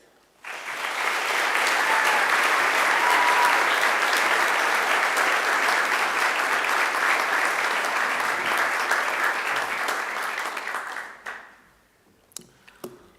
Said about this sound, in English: I think she deserves another great round of applause